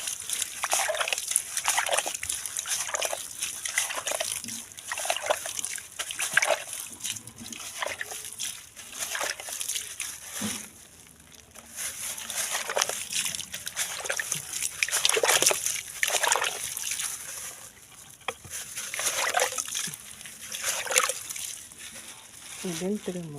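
Water pours and sloshes onto soil around freshly transplanted lemongrass in repeated splashing bursts, fairly close, with pauses between pours.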